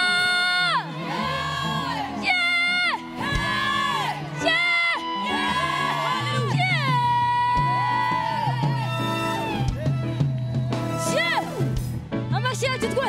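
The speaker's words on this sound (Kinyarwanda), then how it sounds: "reka tumuvugirize akaruru" A live gospel concert audience cheers, whoops and shouts loudly over amplified music with a singing voice, sustained throughout with bursts of higher yells.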